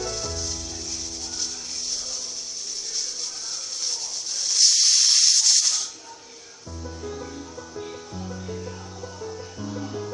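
Pressure cooker vents a steady, loud steam hiss while vegetable biryani cooks, building to a sharp whistle burst in the middle and then cutting off, with a low background drone throughout.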